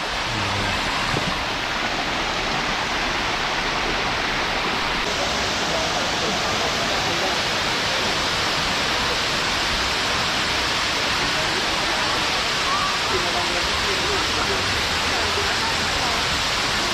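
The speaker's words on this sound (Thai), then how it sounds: "น้ำตกไซโยกน้อยนะครับ" Sai Yok Noi waterfall in Kanchanaburi, Thailand, sending a steady, dense roar of falling and rushing water that stays loud and close throughout, with no voices.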